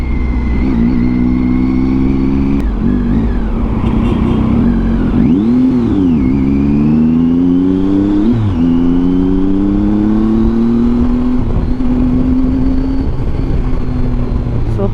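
A Triumph Tiger 800 three-cylinder adventure motorcycle with a Yoshimura exhaust revs hard and close, its loud engine note swooping up and down in repeated throttle blips before settling into a rising, sustained drone.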